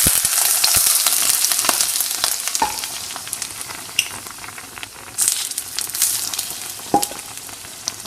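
Oil sizzles loudly in a hot pan around cabbage and Swiss chard rolls, a constant bright hiss broken by a few sharp crackles and stirring clicks.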